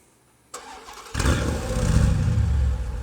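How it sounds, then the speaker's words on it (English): A Dodge Challenger SRT fires up by remote start: near-silence, a sharp click at about half a second, then the engine cranks and catches, settling into a loud, throaty idle rumble that holds to the end. "Takes 4 seconds after you press it the 3rd time for the engine to crank up."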